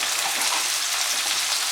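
Jujube fruits fry in a pan with turmeric and salt over medium heat, giving off a loud, steady, dense sizzle with no break.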